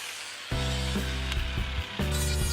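A wooden ladder piece is cut into two support legs for a plant shelf, with a loud, close, buzzing cutting sound in several back-to-back strokes, each starting abruptly.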